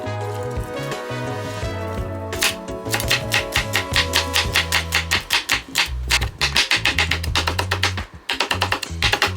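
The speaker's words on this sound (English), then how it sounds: "Now I'm gonna cut the scallions." A knife chops scallions on a cutting board in quick rhythmic taps. The sharp close knocks come in fast bursts with a short pause between them.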